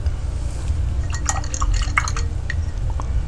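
A paintbrush rinsed in a water container during grayscale painting, giving soft sloshing and scattered small drips and taps over a steady low hum, close and fairly quiet.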